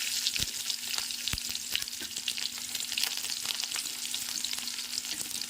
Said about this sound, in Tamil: பெரிய வெங்காயம் தாளித்து போட்டுக்கிறேன்.